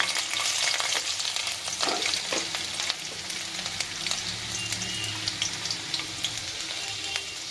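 Garlic frying in hot oil in a pan for a rural-style Indian bottle gourd dish, a steady loud sizzle with crackling pops throughout and no one talking.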